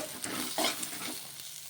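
Lentils and fresh coconut pieces get stirred in a hot pan, a brief close scraping and sizzling with a sharper stir stroke midway, no speech.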